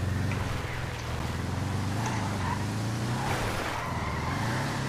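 Old, simple customised car in GTA accelerating hard during a speed test, a loud continuous engine drone rising and falling in pitch through gear changes, with tyre noise underneath.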